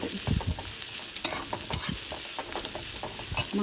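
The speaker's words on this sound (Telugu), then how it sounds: "సో ఇక్కడ ఆనియన్స్ అయితే వేసేసాను. దీనికి మంచిగా మగ్గనిద్దాం." Onions sizzle and fry in a pan for a spicy chicken fry, with steady hiss and scattered scraping stir strokes and a few sharp utensil taps against the pan, close and moderately loud.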